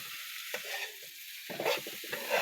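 Eggplant slices frying for begun bhaji, a close crackling sizzle that flares in uneven bursts over a steady hiss.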